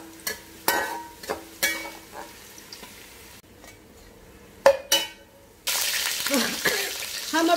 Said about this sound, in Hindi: हम अभी दूसरी बैच तल रहे हैं वैसे ही।